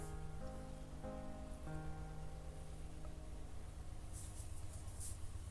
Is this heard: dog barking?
no